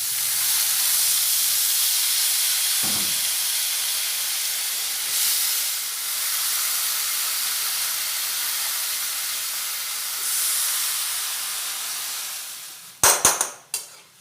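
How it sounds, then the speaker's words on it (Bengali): Soaked moong dal tipped onto fried onions in a hot pan sets off a steady close hiss and sizzle that runs throughout. A few soft bumps fall midway, and sharp metallic clatters of a utensil against the pan come near the end. "এবার ওতে দিয়ে দেব মুগ ডাল।"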